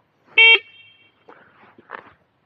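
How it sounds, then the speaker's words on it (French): A Minimotors Bluetran Lightning electric scooter gives one short, loud, shrill horn beep, followed by a few faint quieter sounds. "On a le mode warning, on a un klaxon."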